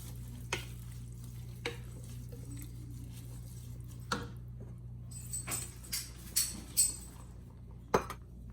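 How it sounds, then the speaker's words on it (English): Kale is stirred into a pot of potato soup, with sparse scrapes and light clinks of a utensil against the pot over a steady low hum, the strokes growing busier toward the end. "we're gonna add the kale into there and stir it around"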